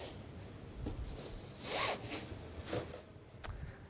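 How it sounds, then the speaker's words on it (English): A zipper pulled along a tension fabric hard case during counter assembly, several quiet close zips with one longer pull in the middle and a short final tug, no talking. "Align the zipper to the center of the back."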